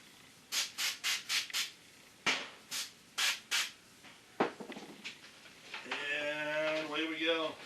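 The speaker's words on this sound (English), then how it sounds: "Let's drill." A 13/16-inch hole is drilled with lubrication during a brewery build, with repeated short grinding and rasping bursts in a steady rhythm, then a longer continuous cut, followed by a voice at the end.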